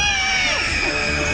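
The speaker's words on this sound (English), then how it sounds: "Scream if you want to go faster." Riders on a fairground ride at a seaside pleasure park scream together in a loud, sustained chorus of high overlapping shrieks and whoops, close up and continuous.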